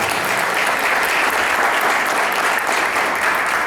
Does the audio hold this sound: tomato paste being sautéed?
no